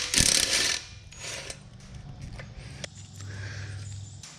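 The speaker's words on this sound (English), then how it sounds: "I'm just going to take the calipers off" Bolts being worked loose from the rear brake caliper of a Chinese 110cc kids' mini quad bike, giving close metallic clicks and ratcheting clatter, a louder burst at the start and then quieter scraping and knocks.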